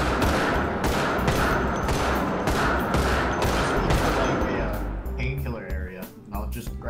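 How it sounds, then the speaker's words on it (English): Rapid bursts of gunfire in Project Zomboid ring out in a steady, repeated rhythm, loud and close, then taper off while a voice talks briefly. "Do you hear my gunshots?"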